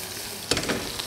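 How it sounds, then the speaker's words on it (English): Chopped onion sizzles in melted butter in a pan, a steady bright frying hiss that jumps louder as the pieces are stirred, close and alone. "After melting butter, I'm gonna just fry my onion"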